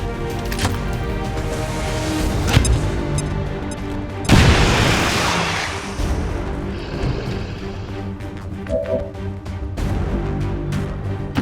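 A grenade goes off during combat in XCOM 2: War of the Chosen, a loud booming blast in the middle of the stretch, with game music and gunfire before and after it.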